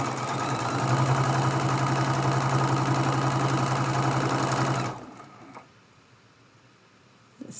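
Sewing machine stitching quilt block seams runs in one steady, loud, fast mechanical whir for about five seconds, then stops abruptly, leaving quiet room tone with a small click.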